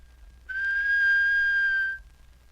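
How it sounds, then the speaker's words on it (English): A person gives a single plain, steady whistle on one clear pitch, held for about a second and a half against near silence. "Let's start with a plain whistle."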